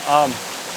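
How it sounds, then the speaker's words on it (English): Steady broadband rush of falling water, like a waterfall, fills the background throughout, with a brief voice near the start. "Well, we've made it to our waterfall."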